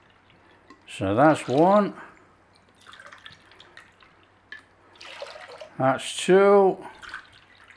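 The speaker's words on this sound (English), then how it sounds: "We want a good 3 cups of water in there." Water is poured from a cup into a sweet and sour sauce of ketchup and sugar in a kitchen, with short splashy pours coming between bursts of speech.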